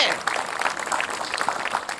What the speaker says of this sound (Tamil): குழந்தைக்கு ஒரு பெரிய கைத்தட்டல் கொடுக்கலாங்க.